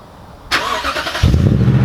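A 5.7-litre V8 engine in a Toyota Tundra TRD Pro pickup cranks with a sharp burst on remote start, then catches and settles into a deep, throaty idle, loud and close.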